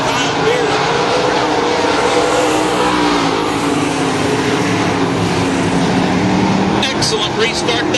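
Race cars restart on a dirt track at Salina, their engines droning loudly and steadily throughout with a rising, revving edge, while a voice talks over the noise.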